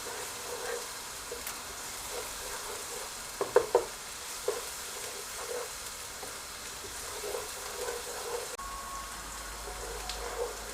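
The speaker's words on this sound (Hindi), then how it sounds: "फ्राई करने के दौरान चम्मच चलाते रहें ताकि सारे प्याज को एक जैसा कलर आए" Onions frying in a pan for a dhaba-style daal chana, sizzling softly and steadily while a spoon stirs them, with a few sharp clicks of the spoon against the pan near the middle.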